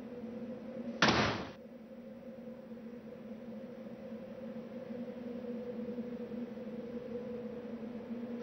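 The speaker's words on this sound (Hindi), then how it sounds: "दरवाजा खोलने की आवाज" A door opens with a single short, sharp thud, faint against a steady low hum and nothing else.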